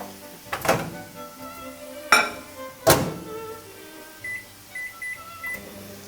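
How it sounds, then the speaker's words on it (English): Three sharp door-like thunks, then a microwave hums quietly and beeps four times in a short, evenly spaced series. "I'm going to do the cheats version and just warm it up in the microwave."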